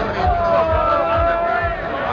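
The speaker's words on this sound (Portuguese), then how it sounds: "A torcida Santista fazendo festa antes do jogo." Santos football supporters in a dense crowd celebrating before a match at night, a steady roar of voices with chanting tones and rhythmic low thumps, loud and close throughout.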